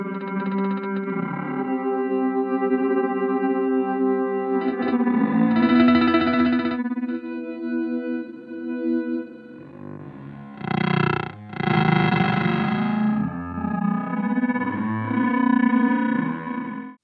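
Guitar run through a Chase Bliss Onward pedal's error timing effect at full mix, producing distorted, chopped and stuttering sampled notes with abrupt mutes and bursts that swell and cut out, heard alone.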